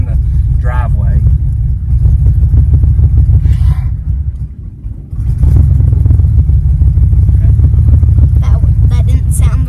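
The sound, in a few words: old Chevrolet Nova engine running, driving in a driveway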